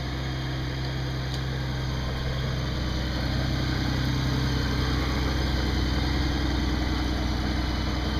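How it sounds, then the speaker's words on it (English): A 2013 Honda F6B motorcycle engine idles in neutral with a steady, even low hum and constant mechanical drone throughout, close and uninterrupted. "When the bike's running in neutral"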